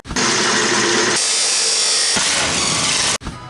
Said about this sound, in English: I'll just do out my pattern of my holes and cut it, drill all the holes, and then cut the shims